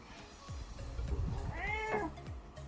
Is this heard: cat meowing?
yes